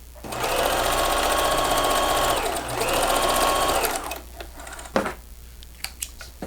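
A sewing machine stitches the seam of a man's shirt being upcycled into a dress, a close steady whirring run that slows briefly, picks up again, then stops, followed by a few light clicks.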